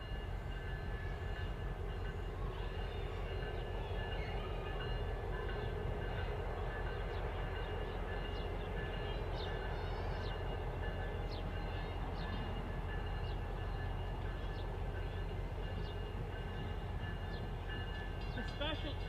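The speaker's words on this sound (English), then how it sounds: "The special train." A train passes at the La Grange, Kentucky Rail Fest, a steady broad rumble of wheels and rail noise that holds throughout, with faint crowd voices underneath.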